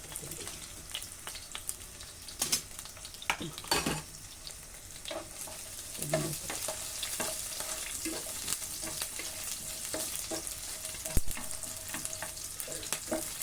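Onion and tomato for a chutney frying in a pan with curry leaves being added, a steady close sizzle with scattered stirring clicks and scraping, no talk.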